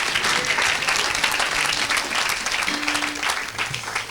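Church congregation applauding in steady, dense clapping throughout, a full-room ovation with faint voices mixed in.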